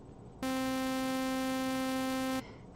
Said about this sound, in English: Nope, saw wave.